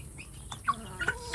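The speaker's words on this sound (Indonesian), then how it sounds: "satu komunitas ayam kampung untuk petelur ya, dengan satu jago dan sekitar 10 yang betina ya sedulur." Free-range native village chickens in a laying flock with one rooster and about ten hens, giving short scattered clucks and calls close by over a low rustling background.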